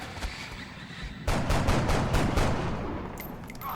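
Gunfire in the XCOM video game, a rapid burst of sharp, loud shots starting after a quiet opening and fading into a short ringing tail.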